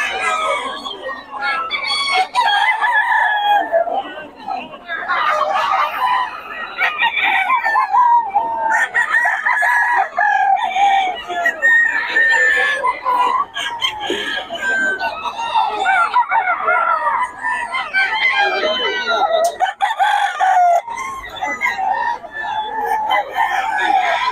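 A Lemon Sweater gamefowl rooster crowing and clucking up close, loud repeated crows and clucks with brief gaps, continuing throughout.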